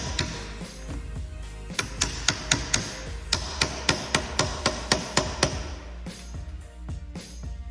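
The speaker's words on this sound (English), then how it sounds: "using our mallet to secure." A mallet taps parts of a black 4-cube modular shoe cabinet into place: a run of about twenty sharp, evenly spaced knocks close by, with no speech.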